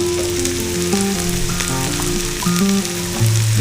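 Spices such as turmeric and garam masala go into a pan of softened tomato masala for an egg masala curry, and the mix sizzles and fries loudly and steadily up close, with faint stirring scrapes and no talking.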